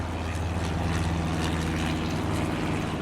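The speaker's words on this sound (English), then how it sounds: "And plane flying overhead." An airplane drones overhead in the Farming Simulator 22 video game, a steady, fairly loud engine hum with a low rumble that holds level throughout, with no voices.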